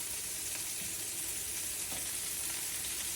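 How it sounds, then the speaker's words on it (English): Greek meatballs sizzle and fry steadily in a pan, a dense continuous crackle with faint occasional pops, no voices. "So they're going to cook on each side for about 5 to 6 minutes per side until they're done."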